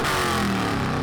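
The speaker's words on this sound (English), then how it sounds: "You rev this thing out, it sounds awesome." A 1976 Chevy Nova with a 4-speed and long tube headers into true dual exhausts runs loud and close, its engine a thick, steady rumble with no voices over it.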